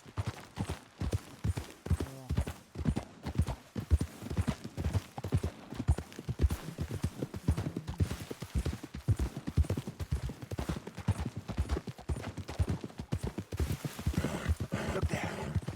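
Steady hoofbeats clip-clop in a continuous rhythm, a horse trotting along in Red Dead Redemption 2, with faint background game sounds and no talking.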